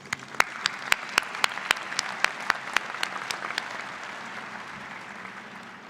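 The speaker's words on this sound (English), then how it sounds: "Please join me with another round of applause for these individuals." An audience applauds at a university graduate school commencement ceremony, steady crowd clapping in a large hall with a few sharp, louder claps close by standing out in the first half before the applause settles and slowly eases.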